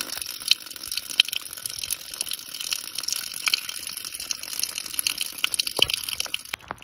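Water trickling and gurgling beneath a deep snowdrift in Alaska in winter, a continuous close babbling flow with small splashy pops scattered throughout, alone without speech.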